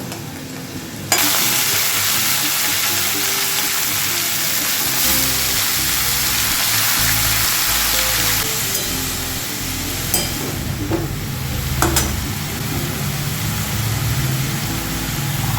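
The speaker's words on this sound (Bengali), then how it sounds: "এবার আমি এতে শাকগুলো ছেড়ে দিচ্ছি" Greens dropped into a pan of fried potatoes on lowered heat set off a sudden loud sizzle that holds steady, with stirring and clinking of a utensil against the pan near the end.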